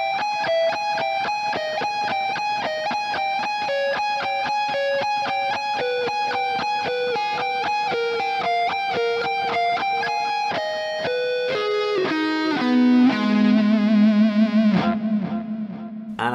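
A distorted electric guitar plays a fast repeating-pattern lick, with the first note of each cycle shifting, then descends into a quick arpeggio and a sustained low note. Loud, close and solo.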